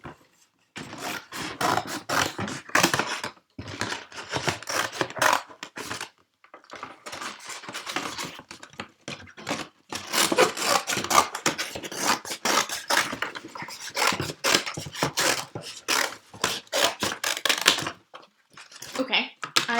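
Scissors or a blade working through a large cardboard box to cut out a section for a tinfoil fish craft, giving repeated scraping, rasping bursts in uneven runs separated by short pauses, close and fairly loud.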